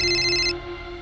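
A phone ringtone sounds for an incoming call, a steady electronic tone that plays loudly for about half a second and then cuts off abruptly, leaving quiet room hum.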